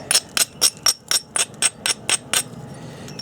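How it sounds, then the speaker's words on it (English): Keokuk flint is struck to knap off flakes, about ten sharp, evenly spaced clicking strikes ringing out close and fairly loud, then a brief pause with faint room noise. "I'm going to whack a few flakes off just to see how it goes"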